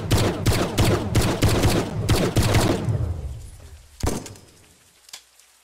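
Rapid volleys of gunfire from a sniper tower in the Brick Rigs video game crack out in quick succession, then stop and trail off, followed by two isolated later shots.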